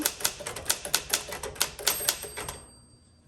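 Rapid, crisp clacks of a 1959 Smith Corona Sterling manual typewriter, a steady run of keystrokes in a brisk rhythm that slows and stops near the end.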